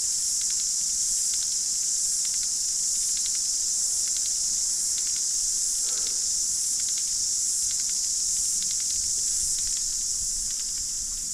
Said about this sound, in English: Don't know if you can hear this. Cicadas.